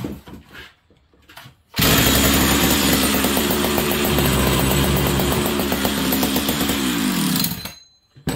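An old big red chainsaw engine catches and runs loud and close for several seconds, holding a steady raspy drone with slight revving before cutting off.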